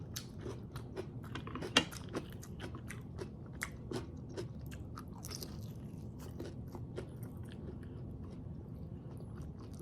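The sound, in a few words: crunching a fresh cucumber while eating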